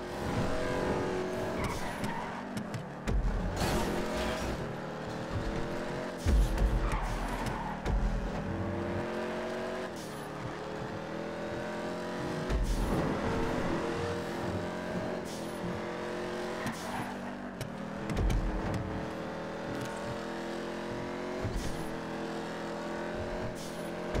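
Race cars in a racing game's Singapore GP endurance event scream past with sustained engine roar, rising and falling revs, and bursts of tire squeal across the whole stretch, loud and continuous with no talking.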